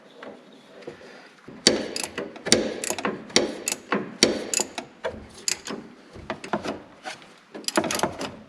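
A part coated in white grease is tightened onto a keyed shaft, giving a run of close, crisp ratcheting clicks and wooden knocks in irregular bursts, with no talk.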